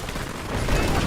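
Gunfire in the real-time strategy video game Command & Conquer 3: Tiberium Wars, a brief dense burst of overlapping shots during a battle.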